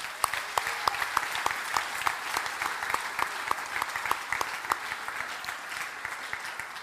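A church congregation at a retreat claps together in a steady, lively rhythm, many hands striking in quick, even beats that fill the room from start to finish.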